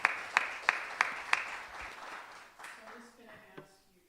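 Audience at a spiritual service claps in a few sharp, evenly spaced hand claps, loud and close, before thinning out as a voice begins speaking over the fading room.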